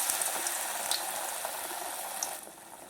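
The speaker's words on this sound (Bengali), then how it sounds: "একটা করেই ভাজি বন্ধুরা" Eggplant fritters (beguni) frying in hot oil, a steady close hiss and sizzle with faint crackles that eases slightly near the end.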